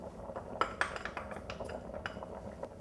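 Spoon clinks and scrapes against a pan as pipe rigate pasta is gently stirred with tender cooked sole fillets, crunchy vegetables and parsley, with soft irregular taps over a low background hiss.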